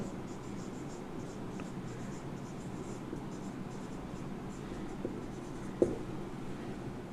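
Pen writing out triangle geometry notes for a Class X maths lesson, a soft continuous scratching that runs steadily throughout at close range, with no talking.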